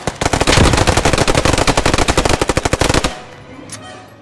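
A Thompson submachine gun fires a long rapid automatic burst in the Post Scriptum war game, loud and close with evenly spaced shots for about three seconds before a fading echo.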